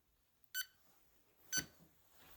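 An EMF meter gives two short, quiet electronic beeps about a second apart during a ghost-hunting session in a hushed room.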